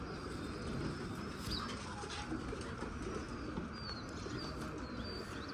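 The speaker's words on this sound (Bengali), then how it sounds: "লাল চোখের কবুতর, গোল্ডেন কবুতর।" Golden red-eyed pigeons coo softly within a dense bed of low rumbling background noise, with faint chirps over it and no clear voices.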